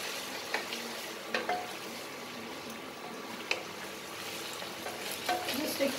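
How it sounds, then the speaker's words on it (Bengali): Garlic paste being stirred and fried in a pan for a mustard chicken dish: a soft, even sizzle with bubbling and repeated scrapes and light taps of a spatula against the metal. "এরপরে আমি অ্যাড করব 1 টেবিল স্পুন মতন রসুন বাটা। ভালো করে নাড়িয়ে সারিয়ে একটু কষিয়ে নেব।"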